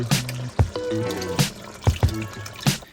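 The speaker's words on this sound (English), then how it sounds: "Now it's time for the coconut milk." Canned coconut milk is poured into a pot of chicken curry, with irregular glugging drips and splashes and a few soft knocks, close and moderately loud, without any talk.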